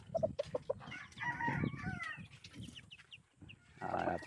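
Fighting cocks and jungle fowl kept in coops cluck steadily at close range, with a few sharper calls mixed in, and a louder burst of fowl noise toward the end.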